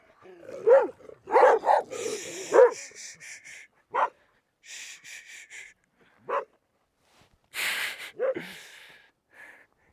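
Several dogs bark in scattered bursts in the hills of the Inca heartland, some close and loud, others farther off, with short yips and pauses between volleys.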